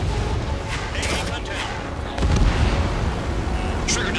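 In the video game Ace Combat 7, an enemy facility is blown up with a loud, rumbling, heavy blast. A deep roar rises and carries on for several seconds amid dense battle noise.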